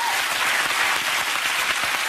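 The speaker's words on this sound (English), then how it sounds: "one more applause with the band" A packed television studio audience claps for a band on The Graham Norton Show, steady, dense applause at an even level throughout the short stretch, with no speech.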